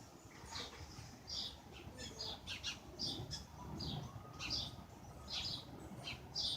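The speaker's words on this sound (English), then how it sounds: "All right, we got the birds coming back." Small birds, including sparrows, chirp and tweet around a backyard bird house in short, scattered bursts, faint and somewhat distant over a soft background hum.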